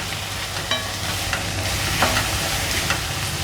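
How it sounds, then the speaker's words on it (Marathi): Dried dandi fish (small sun-dried sukat) frying in hot oil for a chutney, a steady close sizzle with scattered stirring scrapes and crackles across the clip, no voices. "त्यालाही तेलामध्ये परतून घ्यायचं"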